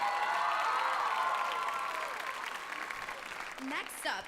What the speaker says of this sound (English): Give another round of applause for Sammy Bonko.